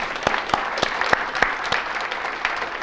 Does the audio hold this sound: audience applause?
yes